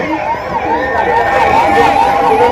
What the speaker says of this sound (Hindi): थोड़ा एम्बुलेंस को जगह